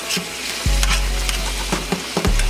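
Pre-cooked shrimp sizzle loudly in a frying pan while being stirred, with a steady crackle and several scraping stirs across the pan.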